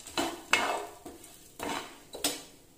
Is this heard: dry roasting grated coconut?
yes